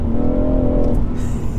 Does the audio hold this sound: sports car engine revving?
yes